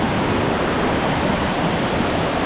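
Dudhsagar waterfall in Goa roars as a dense, constant rush of falling water, loud and close with no letup and no voices.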